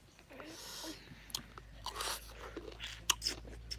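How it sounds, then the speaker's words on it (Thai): Someone eats sour oranges close to the microphone, with faint, scattered crunching and chewing sounds at low level. "กำลังกินอยู่เนาะ"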